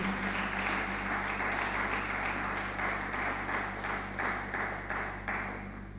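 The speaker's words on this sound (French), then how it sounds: "Est-ce que vous pouvez acclamer pour vous-même?" An audience applauds at a church gathering where a pastor answers young people's questions; a steady wash of clapping continues for several seconds over a low constant hum, heard from some distance.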